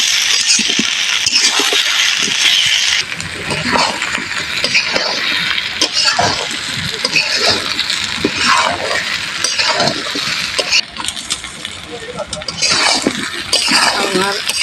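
Mango pieces fry in a pan while a spoon stirs them, giving loud, continuous sizzling with frequent clinks and scrapes against the metal throughout.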